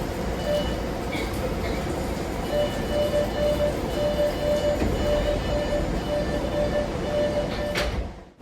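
A new Chinese-built Boston Red Line subway train at Charles MGH station gives a steady, loud rumbling drone with a faint repeating electronic tone over it, then cuts off abruptly near the end.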